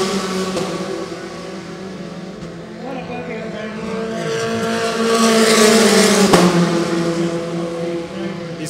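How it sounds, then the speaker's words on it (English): Formula 4 race cars accelerate down a circuit's front straight, engines droning with rising pitch as they shift up through the gears, loud and near, with a commentator talking over them throughout. "These fantastic sounding cars making their way down the front straight, going up the gears, all the way up, fourth, fifth, up to sixth gear."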